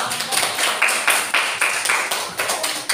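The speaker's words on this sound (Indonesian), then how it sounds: "kita beri tepuk tangan kepada" A small group claps for a classroom discussion group, a steady run of distinct sharp claps at close range, with one clap standing out brighter than the rest.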